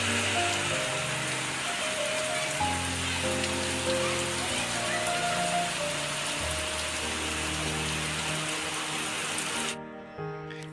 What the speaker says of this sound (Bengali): এখন আবার দেখো কি ঝমঝম করে বৃষ্টি পড়ছে